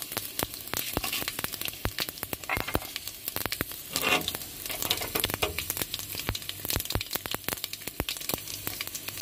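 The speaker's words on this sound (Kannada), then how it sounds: "ನೋಡಿ ಒಂದು ಸ್ವಲ್ಪ ಇಂಗು ಹಾಕ್ತಾ ಇದೀನಿ ಪುಡಿ ಇಂಗು ಹಾಕಿದೀನಿ" Powdered asafoetida sizzles in hot oil as a tempering for a horse gram and greens saaru. A steady, close frying hiss is dotted with dense popping crackles throughout, with no talking.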